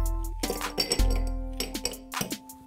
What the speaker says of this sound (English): And now fill up the glass once again with as much ice as possible.